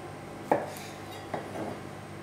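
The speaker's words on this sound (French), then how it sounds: "Donc vous venez couper petits morceaux de fruits." A knife cuts small pieces of fruit for decorating a pavlova Christmas log cake. Two brief, crisp knife taps against a board sound about a second apart, with quiet in between.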